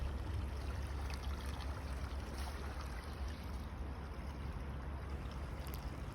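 A river on a forest nature trail flows in a steady, soft, even rush heard from a short distance, with no voices.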